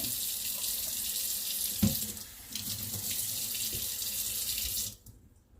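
Hands are washed under a running kitchen sink tap, a steady close hiss of flowing water with a few splashes and shifts in the stream before it cuts off near the end; no speech.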